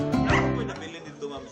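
Dogs rescued from Kuwait bark and yip loudly in a short, close burst, with a voice heard among them.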